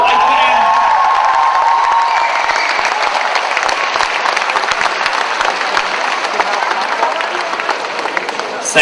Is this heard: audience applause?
yes